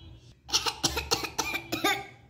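A storytelling narrator voices an ice cream seller's polite coughing: a faint lead-in, then a run of five or six short, close coughs in quick succession, loud against a quiet background.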